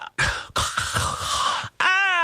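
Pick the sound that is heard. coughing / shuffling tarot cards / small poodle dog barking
coughing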